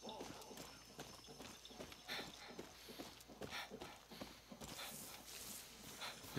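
Horse hooves clip-clop in Far Cry 6, irregular faint hoofbeats on hard ground under game ambience.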